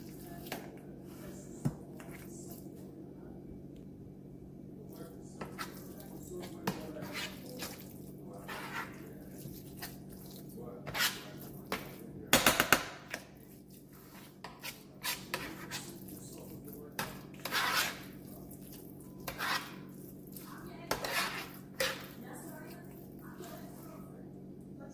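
Hashbrown casserole mixture being stirred in a dish: soft wet squishes and scattered clicks of a utensil against the dish, irregular and fairly quiet over a steady low room hum, with one louder scrape cluster midway.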